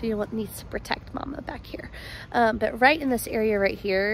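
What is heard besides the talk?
None of the usual background noises is heard.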